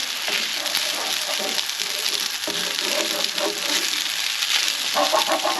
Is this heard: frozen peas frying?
yes